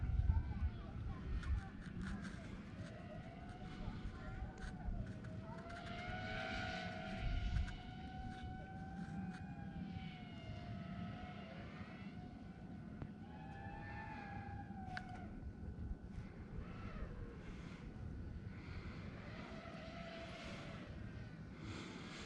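A DJI FPV drone whines steadily as it flies fast, its motor pitch sliding up and down through jerky turns, with a person talking over the continuous buzz.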